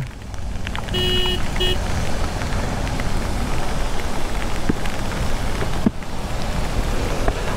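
Heavy rain falls steadily during a monsoon road journey from Mumbai toward Khopoli, a dense, continuous hiss of downpour at constant loudness with brief faint tones and traffic sounds mixed in, and no clear speech.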